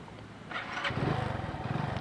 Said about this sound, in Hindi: बाइक मैंने स्टार्ट कर ली भाई